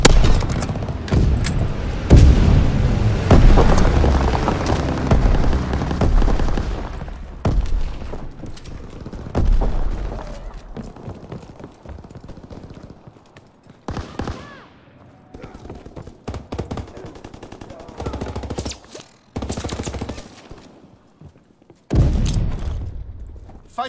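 A fighter pilot strafes a target in a video game: heavy, dense bursts of rapid gunfire and booms, loud at first, then sharp intermittent volleys that come and go with quieter gaps between them.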